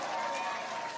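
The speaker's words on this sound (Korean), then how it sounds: "박수 감사합니다" Audience applause during a political speech, a dense, even patter of many hands clapping that holds steadily for the whole moment, with no gaps.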